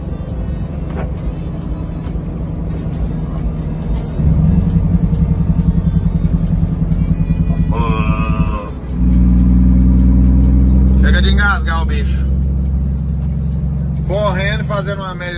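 An FNM truck engine with a three-stage engine brake gives a loud, close, steady droning rumble that steps up in force twice as the brake stages engage, with brief voices over it.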